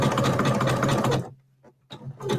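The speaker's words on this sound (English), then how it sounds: "we're going to back stitch over it again" Sewing machine stitching through rope to reinforce a small loop, a steady loud mechanical whir that stops, leaves a faint low hum, then starts again in a short burst.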